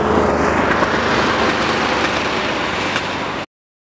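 A Porsche engine roars steadily and loudly close by as the car pulls away, a dense broadband rush of engine and road noise that cuts off abruptly.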